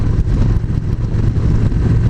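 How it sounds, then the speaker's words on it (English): A Victory Magnum X1 Stealth Edition motorcycle engine roars loudly and continuously up close, revving out through the first gears, a dense low rumble with a slight rise and fall as it revs. "it just revved out, what is that, the first 4 gears?"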